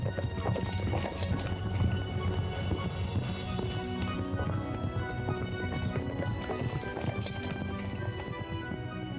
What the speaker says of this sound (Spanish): ¡Los caballos!